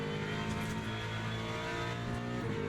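A Ford Mustang race car in Le Mans Ultimate at Sebring, just out of the pits on cold tyres, with a steady loud engine drone holding a constant pitch throughout.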